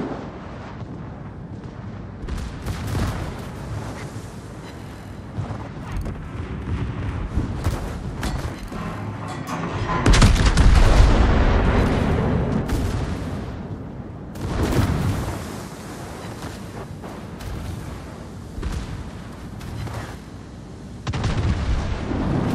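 Heavy naval artillery from warships in World of Warships, with repeated deep booming salvos and rumbling blasts, the loudest barrage building midway and further volleys trailing after, dense and continuous with no talking.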